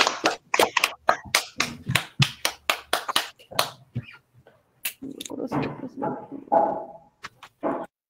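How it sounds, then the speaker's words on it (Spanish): Audience at an ecocultural congress for young participants in Chota bursts into loud, dense clapping that fades after a few seconds, followed by scattered claps and a speaking voice. "Fuertes aplausos, por favor."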